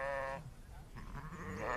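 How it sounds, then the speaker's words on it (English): Sheep from a herd on ranch land bleat nearby, a clear wavering call up front followed by quieter overlapping bleats from others in the flock. "biological weapons, like these sheep"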